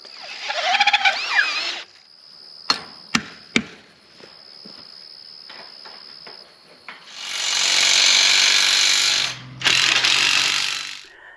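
A few sharp clanks and knocks are followed by a loud, steady drill whir that runs for a couple of seconds, stops briefly, then starts again.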